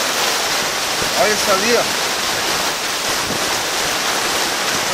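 Floodwater in Itaquiraí pours through a gate with a loud, constant roaring rush, close by, while someone speaks briefly over the torrent.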